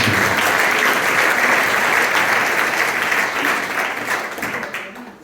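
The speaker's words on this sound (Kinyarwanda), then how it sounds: "nayo tuyikomera amashyi tuyishime" A church congregation at ERC Ryabega Parish applauds during a sermon. The clapping is loud, dense and sustained, then gradually thins and fades toward the end, with no talking over it.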